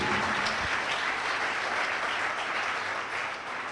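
A church congregation applauds together in a steady burst of clapping that fades slightly at the end, with no talk over it.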